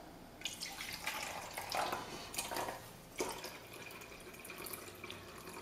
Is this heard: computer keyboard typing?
no